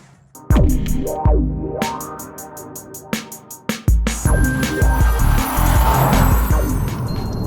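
Jaguar F-Type V6S sports car driving hard, a loud engine with sharp revving bursts and gear changes, then a sustained roar with tyre noise, close and alone without talk.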